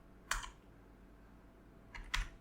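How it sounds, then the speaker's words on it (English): Two short bursts of keys tapped on a computer keyboard while typing a login name, quiet and close, separated by a brief pause in an otherwise still room. "here I'll be typing in admin"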